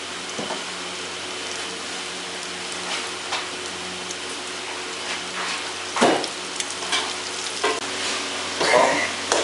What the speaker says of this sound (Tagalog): at ito ilagay mo sa kumukulong mantika.